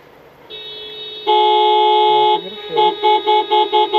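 Car horns honk in city traffic, a long steady blast followed by a string of short rhythmic toots, loud and close with no talk over them.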